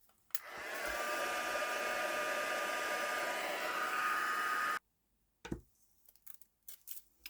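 A craft heat tool blasts close and steady for about four seconds, drying gold pen ink on a paper gift box project, then cuts off abruptly, leaving a few light handling taps.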